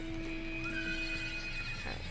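Horse neighing in the World of Warcraft video game, a single whinny over steady game music and ambience, fairly close and clear.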